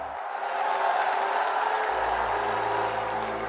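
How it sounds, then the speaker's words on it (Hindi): A crowd applauds at a Kushinagar event welcoming the Prime Minister, a dense wash of clapping that stays steady and moderately loud throughout. "आप सब तालियों के पुष्पों से उनका स्वागत करेंगे"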